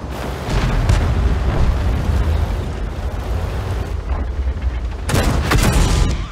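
In a tank video game, a Panzer IV's cannon fires and hits with a loud, booming blast. A sustained rumble follows, then a second sharp burst of impact near the end.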